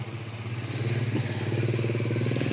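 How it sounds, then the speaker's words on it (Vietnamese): Isuzu C330 diesel engine from an excavator runs steadily with a low, even rhythmic chugging and mechanical clatter, fairly close and growing slightly louder partway through. "Một cái con động cơ nữa là C330 Isuzu 98 ly nhé."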